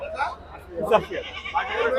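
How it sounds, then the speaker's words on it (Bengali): A goat bleats nearby in short, wavering calls, mixed with people's voices in the background at a goat market in Sarojganj. "এখানে কিন্তু দুইটা বড় ছাগল দেখতে পাচ্ছি"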